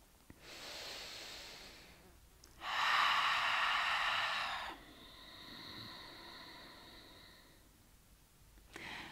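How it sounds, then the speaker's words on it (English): Ujjayi yoga breathing: a breathy inhale, then a louder hissing exhale that shifts to a narrower, whistling tone as the lips close midway, fairly close and quiet. "midway close them and exhale the rest of your breath with your lips closed"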